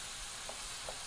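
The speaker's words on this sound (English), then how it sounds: "So we just want to move them around the pan until they all start to turn pink." Shrimp sizzle in a skillet while being stirred around the pan, a faint, steady frying hiss with soft scraping movements.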